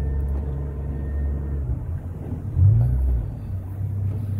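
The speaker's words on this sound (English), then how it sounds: "all you have to do is turn the key here. Boom, starts up, put in gear" A boat engine on the water, started by key and put in gear, heard as a close low rumble that swells briefly midway before settling into a steady running drone, with no talking.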